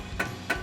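A hammer giving two quick taps on a bolt threaded into a rear upper control arm on a 2015-2019 Mustang, sharp metallic strikes about a third of a second apart, close and fairly quiet.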